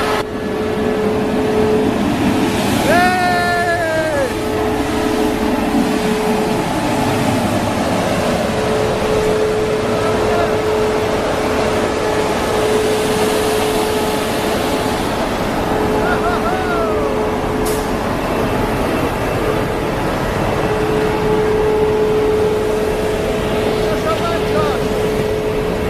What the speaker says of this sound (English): It sounds like a cement truck came.